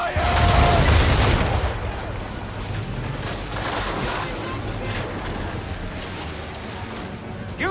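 Ship cannons fire chain shot during a naval battle in Assassin's Creed 3, a heavy booming volley up front followed by crackling gunfire, rumbling water and shouting voices throughout.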